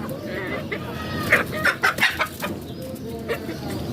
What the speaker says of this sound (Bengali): আমার এখানে এখন চোদ্দোটা মুরগি রয়েছে